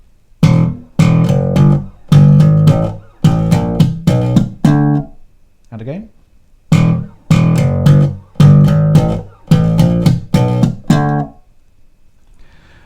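Bars one and two of a slap bass riff are played, with percussive thumb slaps, pops and ghost notes in a tight funky rhythm. A short spoken pause comes before the phrase repeats, loud and close.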